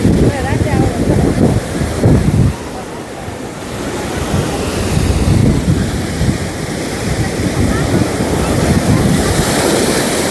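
Sea waves wash steadily onto Okha beach, a continuous roar of surf with gusty wind buffeting the microphone throughout.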